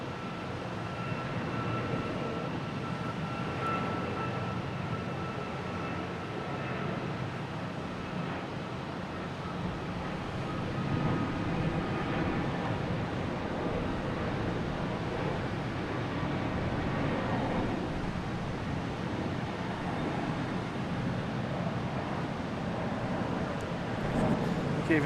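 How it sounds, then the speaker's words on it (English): An Alaska Airlines Boeing 737 MAX 9 taking off from Boston Logan Airport, a steady distant jet roar that swells gradually over about twenty-five seconds. "there goes Alaskan Airlines off into the sort of sunset"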